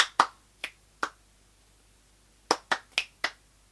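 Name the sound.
imitated hand claps and finger snaps percussion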